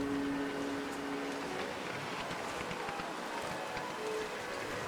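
Howling wind during a windy aurora in The Long Dark, a steady loud broadband roar with gusty swells filling the whole clip, no talk over it.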